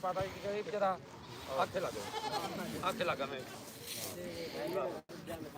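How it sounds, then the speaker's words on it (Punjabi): Goats bleating at a busy weekly goat market in Dhanaula, with repeated wavering animal cries rising over a steady crowd murmur and nearby voices talking throughout. "ਸਾਰੀਆਂ ਬੱਕਰੀਆਂ ਵਧੀਆ"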